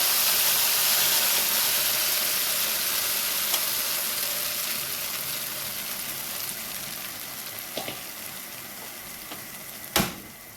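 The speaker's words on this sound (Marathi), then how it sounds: "कढीपत्ता टाकल्यानंतर जी मिश्रण आपण मिक्स करून घेतलं होतं दही आणि बेसन ते टाकायचे" A yogurt and gram flour mixture for bhaji kadhi goes into a hot curry-leaf tempering, a loud close sizzle and hiss that slowly fades, with a sharp utensil clink near the end and no talking.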